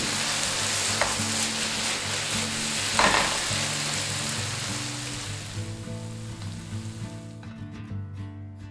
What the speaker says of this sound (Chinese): 把它爆香，把它爆到整个汁全部收干之后呢